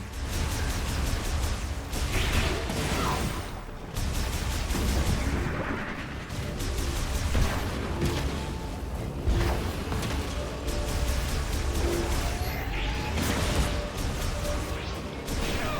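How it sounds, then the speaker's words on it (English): Repeated booming blasts and crashes in Metroid Prime 4: Beyond, hitting one after another over a steady mechanical rumble, with no voices. "So these explosions hit kind of hard."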